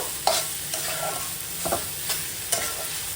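Cabbage curry with fish head being stirred in a pan: several scraping strokes of the spoon come at a steady pace over a soft, constant sizzle, close by, with no talking.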